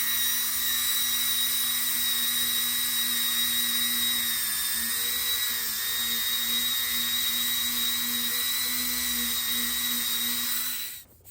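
A pointy diamond-tipped engraving bit, about 1/8 inch, cuts into a 7075 aluminum RC wheel with a continuous high-pitched whine that stays steady for several seconds before stopping abruptly.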